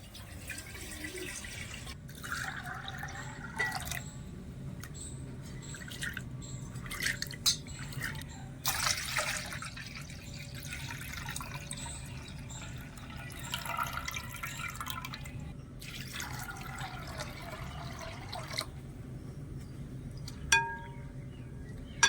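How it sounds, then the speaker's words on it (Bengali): Soaked lentils being rinsed for homemade crunchy spiced dalmoth, with water changed repeatedly: steady splashing and sloshing in a bowl, occasional drips and clinks, close and continuous with no talk. "এবার একটু ভালো করে ধুয়ে নেব জল পাল্টে পাল্টে"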